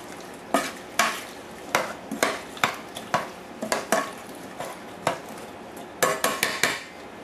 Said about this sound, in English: We're going to give that just a little stir. Get them seasonings all stirred up.